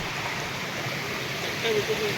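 Savatkada waterfall in Rajapur taluka pours steadily, a continuous broadband wash of rushing water filling the whole clip, with a voice speaking faintly over it near the end.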